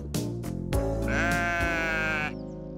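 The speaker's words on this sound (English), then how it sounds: "Baaing sheep." A sheep bleats loudly and close, one long wavering baa after a few short calls, heard on its own.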